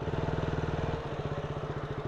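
Close, steady chugging idle of a motorcycle being parked, a rapid even putter that shifts slightly in tone partway through, loud and alone.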